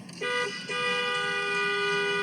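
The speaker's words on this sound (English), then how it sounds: "she honks outside of his house" Car horn honking outside a house: two short toots followed by one long sustained blast, loud and clear with no talking over it.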